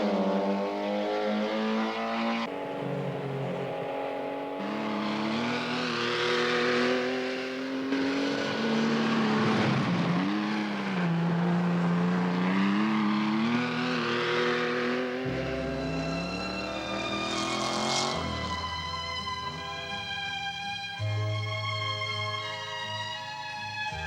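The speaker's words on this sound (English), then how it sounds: "she came through Glen Cove at 95 miles an hour in that four-wheel drive Audi Sport Quattro" A four-wheel-drive Audi Sport Quattro race car at the Pikes Peak hill climb roars near and loud at high speed, its engine note rising and falling through repeated gear changes and accelerations.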